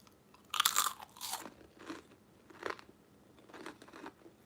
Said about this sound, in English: Listen to this crunch. They're crunchier than our Cheetos.